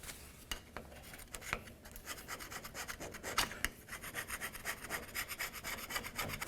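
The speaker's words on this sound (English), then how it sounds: "let's continue on with our scraper, and we're going to get rid of any of the debris that's located on the differential itself." A hand scraper rasps and rubs across the differential of a 1994-2004 Chevy S-10 during rear axle seal work, clearing away debris in a steady series of close, scratchy strokes with no talking.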